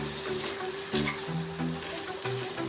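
Brinjal pieces frying in oil with turmeric being stirred for a stuffed eggplant fry, a steady close sizzle broken by a few soft scraping stirs and utensil knocks.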